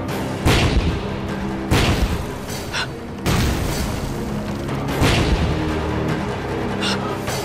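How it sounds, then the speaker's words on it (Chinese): Heavy booms and blasts from explosions and artillery fire in a battle scene of a war film, loud repeated detonations roughly every one and a half seconds over a continuous rumbling din of combat. "大佐，爆炸的方向是？"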